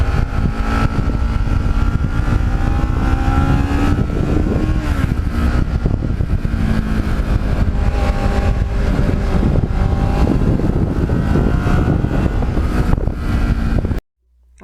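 A Kawasaki Ninja EX650R motorcycle drones steadily while being ridden, its engine note blended with loud, buffeting wind noise that holds constant before cutting off abruptly at the end.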